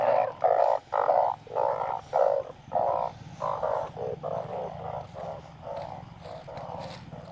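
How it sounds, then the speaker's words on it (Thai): Balloon frogs croak loudly in a dense chorus during a night frog hunt, with repeated pulsing calls that overlap steadily and carry close to the microphone, no voices over them. "อวันนี้มาล่าอึ่งครับ ล่าอึงหูได้ยินเสียงกันไหมครับ"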